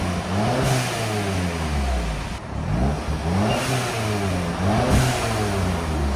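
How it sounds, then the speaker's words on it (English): A stock-exhaust 2012 Audi TTS with a 2.0L turbo engine revs up and down in repeated rising and falling sweeps, loud and close, with a brief lift around the middle; there is no separate blow-off valve hiss. "You can hear the blow-up valve."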